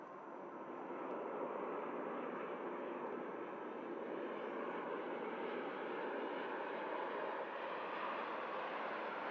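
A Ryanair airliner lands at Manchester Airport, its jet roar steady and broad throughout, heard from a distance with no voices.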